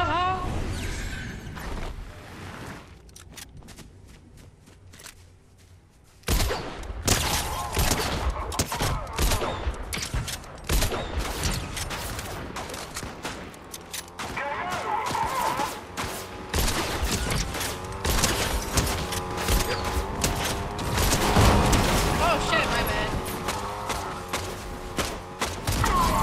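Gunfire in the Fortnite battle royale game, quiet at first, then erupting into dense volleys of rapid shots and thuds layered with game effects and occasional voices chatting over the action.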